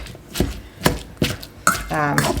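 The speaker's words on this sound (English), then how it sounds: "using just a potato masher, and that will help break all that sausage up." Several sharp, wet thumps of a potato masher breaking up sausage in a bowl, evenly spaced, followed by a brief scraping rattle at the end.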